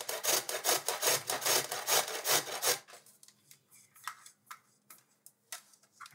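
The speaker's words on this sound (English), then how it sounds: "we're going to grate the carrot and add it to the bowl of diced beets" A carrot is grated into a bowl of diced beets, giving a rapid run of rhythmic scraping strokes for almost three seconds before trailing into a few quiet, scattered scrapes and clicks.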